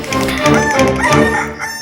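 A rooster crows loudly and close at night in one long, drawn-out call with clucking breaks, alone without talk.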